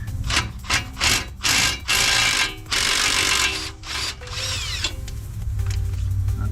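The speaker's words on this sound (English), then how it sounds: "We need to get behind here and take off that nut." Rhythmic ratcheting and grinding bursts as a nut is worked off behind the axle of a Chevy Sonic, close and loud, with short pauses between strokes and a steady low rumble at the end.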